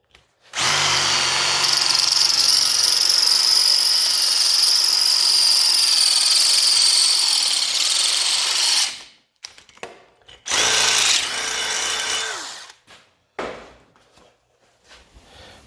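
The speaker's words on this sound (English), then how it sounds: "Now I'm going to drill it out with the 1/4 bit." A power drill with a 1/4 inch bit runs loud and steady for about eight seconds, working on a homemade cooling device for a RZR. After it stops, a few shorter bursts follow with brief gaps between them.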